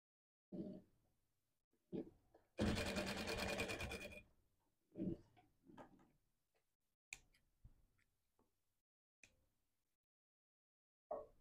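A sewing machine stitches fabric strips onto a dress seam in one loud, steady burst of about one and a half seconds, set between scattered handling clicks and thumps with quiet gaps.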